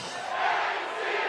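A soccer crowd at an Athletic Club Boise versus Portland Hearts of Pine match in Treasure Valley on a Friday night sends up a steady, loud roar of cheering and shouting throughout.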